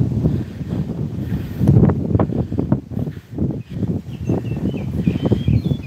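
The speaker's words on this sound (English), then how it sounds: "It's really windy out here" Strong wind gusts buffet the microphone outdoors in rural Kansas, a loud rumbling roar that rises and falls in irregular bursts throughout.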